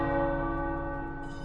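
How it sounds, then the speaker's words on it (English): Tower bells peal in the game Marvel's Midnight Suns, a sustained, richly ringing clang with long overlapping resonance, loud and close with no voices over it. "The tower bells are ringing."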